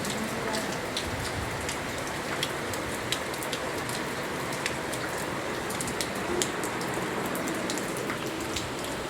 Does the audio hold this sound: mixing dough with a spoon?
no